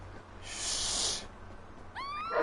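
A cat meows from outside, a short rising cry near the end after a burst of hissy noise, faint against a quiet room.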